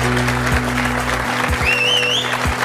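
A television audience applauds world champion Fabrice, dense clapping that holds steady and fairly loud throughout, with a couple of whistles rising over the crowd near the end.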